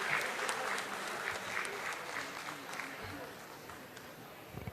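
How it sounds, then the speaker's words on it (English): Audience applause greeting a guest of honour at a school event attended by students, parents and teachers; sustained clapping from a hall crowd that gradually fades, with a voice speaking over it near the start. "Huge round of applause."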